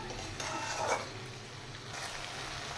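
Spice paste of ground onion, dried red chilli, cumin and ginger frying in a pan for a katla fish curry, a steady soft sizzle with faint stirring scrapes, close and continuous with no talk.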